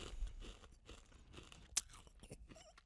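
Someone chewing food with the mouth open, producing faint close-up crunches and wet smacking bites in an irregular rhythm, with one sharp click near the middle.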